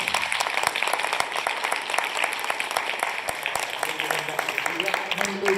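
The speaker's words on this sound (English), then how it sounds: "Give him a round of applause for Dante Basco" Crowd applause at a comic media expo panel with actor Dante Basco, a sustained patter of many clapping hands with a few sharper individual claps, while voices talk over it.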